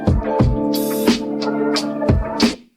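A music beat is slowed with a half-time effect at 50%. Punchy low kicks and hissy high hits land over a sustained tonal bed, at a moderate level, and the sound fades out at the end.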